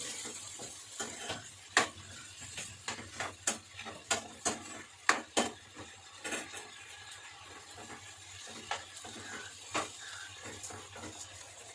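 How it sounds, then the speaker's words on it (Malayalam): A spoon scrapes and clacks against a pot while stirring salted Ethiopian-style beef curry, irregular sharp knocks over a faint simmering sizzle, close and alone without talk. "ഉപ്പിട്ട് കൊടുത്തു നന്നായിട്ടൊന്ന് മിക്സ് ചെയ്യാം"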